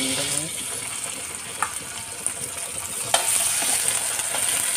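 Beef ribs fry in hot oil in a pan, a steady close sizzle with a few sharp spatter pops and stirring clicks, and no talking.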